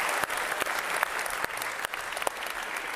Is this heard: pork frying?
no